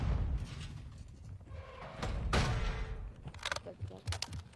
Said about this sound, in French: ça tire de la colline aussi